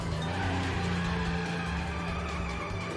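A motorcycle engine in the video game Bayonetta revs with a loud, sustained droning whine and shifting pitch, mixed with racing and skidding-like game effects, continuous throughout with no speech.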